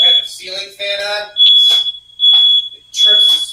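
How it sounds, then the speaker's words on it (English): A ceiling smoke alarm set off by oven heat shrills with a piercing steady tone in repeated bursts, loud and close, while people talk over and between the beeps. "it trips the smoke alarm."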